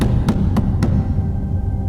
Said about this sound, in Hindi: ऐसा लगा मानो कोई खिड़की के बाहर से जोर जोर से खिड़की को पीट रहा हो